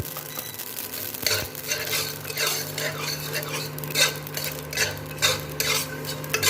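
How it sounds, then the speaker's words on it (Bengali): Poppy seeds fry in a pan with garlic for a South Indian Hyderabadi brinjal dish, giving a steady soft sizzle with frequent spoon-stirring scrapes and light clinks, close by and with no talk. "এরপরে পোস্তগুলো দিয়ে ভেজে নেব।"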